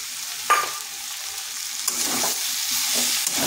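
A spatula stirs fried lentil dumplings with spinach in a pan, starting with a sharp metallic clink, then soft sizzling under a run of scraping, shuffling strokes that grow busier toward the end.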